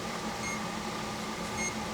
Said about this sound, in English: the beeping you hear, I guess that's that doo-doo sound they're talking about